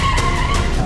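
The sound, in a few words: Cadillac Escalade emergency braking with ABS at 60 km/h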